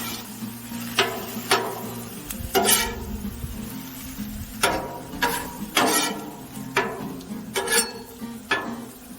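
Cheese steak meat cooks in a little oil on a Blackstone griddle, a low steady sizzle under repeated sharp scrapes and taps of a metal spatula against the flat top, close and moderately loud, with no talking.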